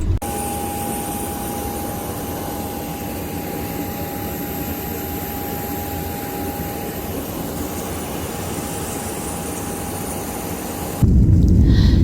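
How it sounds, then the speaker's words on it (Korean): An airplane takes off in South America after a trip to Iguazu, heard as a steady, loud, dense roar of jet engines with a constant whine that holds for the whole stretch before cutting to a low rumble at the end. "드디어 비행기가 뜨고 여행 속의 짧은 여행이 마무리되어 갑니다"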